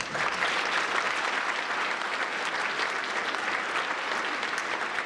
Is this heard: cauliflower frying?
no